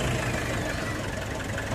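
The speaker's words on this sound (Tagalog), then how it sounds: "ipa-start ko na itong makina" Diesel engine of a Nissan NV350 van idling after an oil change and flush, a steady, loud, rough mechanical rumble with a faint knocking texture, close up and unbroken.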